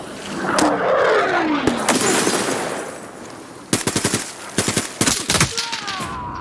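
Gunfire from an online shooter video game plays as a loud automatic burst and an explosive whoosh, followed by scattered rapid volleys of shots.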